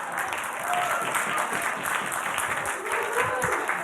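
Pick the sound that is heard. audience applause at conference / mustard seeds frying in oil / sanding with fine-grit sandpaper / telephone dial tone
audience applause at conference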